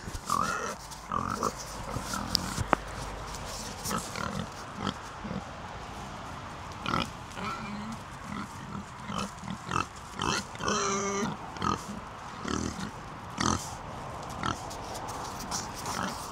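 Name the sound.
pigs oinking and snorting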